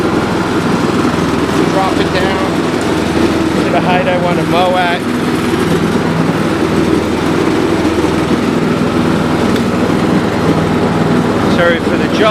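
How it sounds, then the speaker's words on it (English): A Craftsman LT2000 riding lawn tractor engine runs steadily with its floating mower deck belt engaged, a loud, continuous droning hum held at a constant pace throughout, with brief voices heard over it. "So I'm going to engage the belt with it up high."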